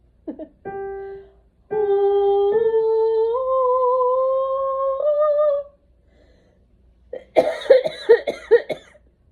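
A sung tone holds and slides upward, then breaks off; after a pause comes a burst of several harsh coughs close to the microphone.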